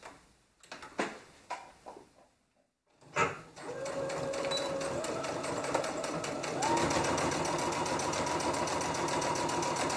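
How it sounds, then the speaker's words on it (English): A sewing machine runs a steady, continuous stitch a quarter inch around the neckline and armhole of a fall jumpsuit, starting after a few soft handling knocks and a brief pause and holding a loud, even whir to the end. "we're going to sew the neckline and we're going to sew the armhole so you have clean edges"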